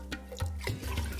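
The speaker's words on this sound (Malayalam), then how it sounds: "അരി വറുത്ത് കഴിഞ്ഞ് നേരത്തെ എടുത്തു വെച്ച 5 ഗ്ലാസ് വെള്ളം" Water is poured from a glass into a pot of fried rice for a semi-cooker chicken biryani, along with the broth from boiling the chicken, a short close splashing pour with a few gurgling surges.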